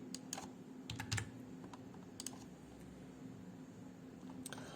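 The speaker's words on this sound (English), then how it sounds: "now I type solution on top of each image" Quick, light keystrokes tapping on a computer keyboard, irregular clusters of clicks at close range in a quiet room, no voices.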